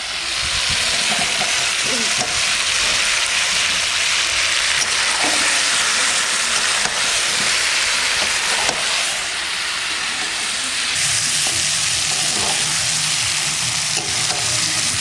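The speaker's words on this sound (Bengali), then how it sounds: "খুব সুন্দর করে মাংস কষানো হয়ে গেছে" Chicken pieces fry with potatoes in a pan, a loud continuous sizzle and hiss with occasional scrapes of stirring close by, running steadily throughout without speech.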